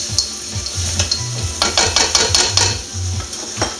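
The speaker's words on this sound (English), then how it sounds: "now just let that fish cook in a little bit" Fish frying and sizzling in a pan for seafood pasta, a steady close hiss broken by scrapes and light clinks of a utensil stirring against the metal.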